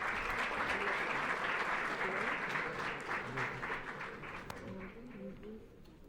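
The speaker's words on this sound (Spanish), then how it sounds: "Un fuerte aplauso." Sustained applause from an audience at a legislative parliamentary working session, steady dense clapping that fades slightly toward the end, with faint voices mixed in underneath.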